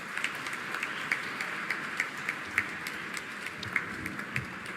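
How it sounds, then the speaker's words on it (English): Scattered applause from a talk audience, fairly faint and distant, with individual claps standing out over a steady background murmur. "A huge round of applause."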